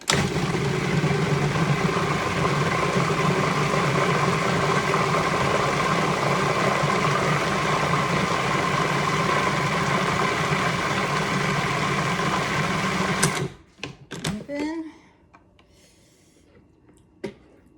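A food processor puréeing sweet potatoes whirs steadily at close range for about thirteen seconds, then stops abruptly, leaving a few clattering knocks and scrapes.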